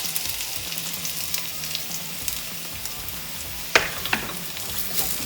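Garlic and onion fry in a pan for a Pad Thai with tofu and shrimp, giving a steady close sizzle with a few sharper crackles and clinks from stirring near the end, and no one speaking.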